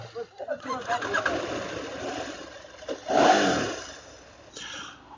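A 2023 KTM 890R motorcycle engine cranks and fires up close by, with a sputtering start that swells into a brief rev before settling into an idle.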